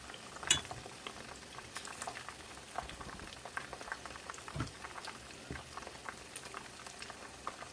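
Steady bubbling sizzle of food frying in hot oil in a wok, with occasional louder pops and utensil clinks, no voices.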